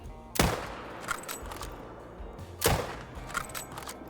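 Two sharp, loud rifle shots from the video game Call of the Wild while hunting boar in Scotland at long range, each crack followed by a brief rolling echo and quieter thuds between.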